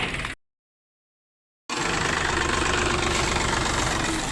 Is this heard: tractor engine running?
yes